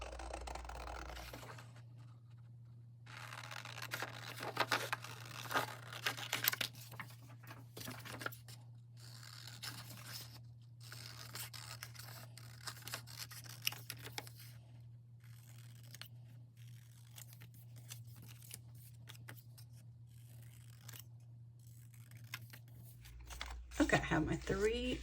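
Paper images cut by hand from book pages with scissors, a steady run of soft snips and crinkles close by over a constant low hum, with short pauses between cuts.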